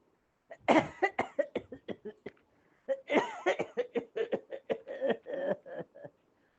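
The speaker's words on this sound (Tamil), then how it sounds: "லொக் லொக் என இருமல் சத்தம் கேட்டு" Two bursts of repeated hacking coughs, close and fairly loud, each a rapid series of harsh coughs separated by a brief pause.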